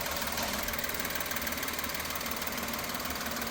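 A Maruti WagonR engine running on CNG idles steadily nearby, a low, even hum with a faint rhythmic knock and no talking.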